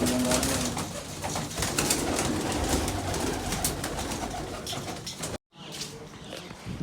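Pigeons coo steadily in a low, rolling murmur amid busy background noise on a rainy day, briefly cutting out near the end.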